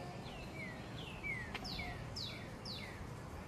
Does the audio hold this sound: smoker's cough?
no